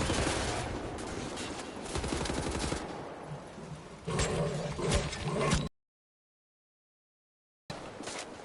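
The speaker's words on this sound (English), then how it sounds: "Now they have fucking laser Gatling guns." Laser Gatling guns firing in a video game: a dense, rapid stream of automatic shots that runs loud and continuous for over five seconds, cuts to silence, then resumes briefly near the end.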